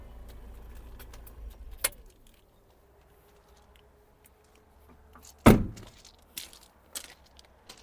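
Car keys for a 2020 Volkswagen T6.1 jangle and clink in a few short bursts, with one sharper rattle in the middle and quiet pauses between.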